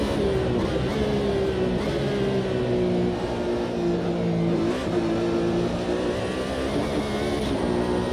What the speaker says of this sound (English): you get a different tyre sound altogether